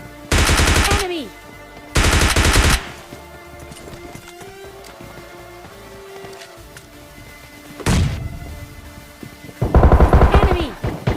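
Gunfire in the mobile battle royale game PUBG Mobile Lite comes in four loud, sharp automatic bursts, separated by quieter stretches of faint in-game ambience.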